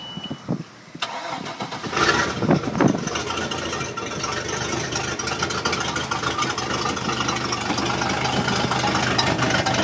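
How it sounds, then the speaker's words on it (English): A boat's stern drive motor cranks and catches after a brief click during flushing, then settles into a steady rumbling idle with a knocking, churning mechanical drone. "Next, just start the motor."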